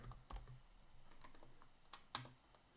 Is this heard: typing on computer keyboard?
yes